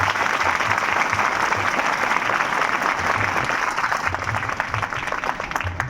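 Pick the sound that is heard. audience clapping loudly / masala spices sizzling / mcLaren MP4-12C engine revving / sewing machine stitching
audience clapping loudly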